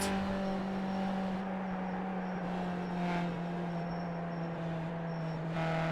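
A Skip Barber race car in a sim racing game at Motegi holds a steady, loud engine drone at high speed, with the pitch shifting slightly and no voices.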